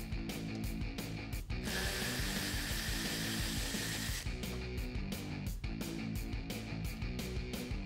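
A power tool, likely a ratchet or driver, works the two 10 mm bolts holding the headlight on a RAM 1500 pickup, giving fast clicking bursts around a steady whirring run in between.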